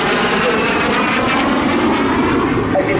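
A Norwegian de Havilland Vampire FB52 jet flies at a seaside airshow, giving a loud continuous engine roar that stays steady throughout, with a commentator's voice faintly underneath.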